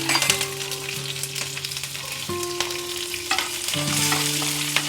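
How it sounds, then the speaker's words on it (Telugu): Urad dal and green chillies fry in hot oil in a pan, a steady close sizzle with occasional stirring scrapes throughout, no voices. "మినపప్పు వేగే వరకు చక్కగా వేయించుకుని ఇందులోనే కాస్త రెండు నాలుగు పచ్చిమిరపకాయలు కూడా వేసేసి"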